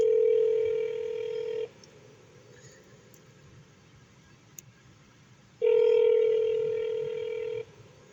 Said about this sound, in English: I need to speak to somebody in regards to reporting officers harassing me and hang up the phone on me.